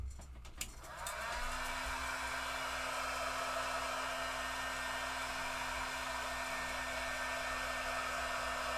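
Hair dryer drying a watercolor painting, switched on after a few handling clicks and then blowing in a steady, even roar for several seconds, fairly faint and with no voices.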